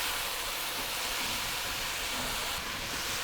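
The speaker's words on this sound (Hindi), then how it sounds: "सब्जियां सौते हो रही हैं" Vegetables and chicken with finely sliced capsicum sautéing in a pan, a steady, dense sizzling hiss that runs loud and unbroken throughout.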